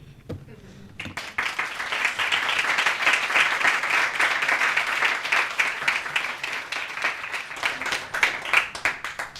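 Audience applause at a college writing center's evening reading and performance event, steady dense clapping that swells after a quiet first second and carries on at full strength with a few cheers mixed in.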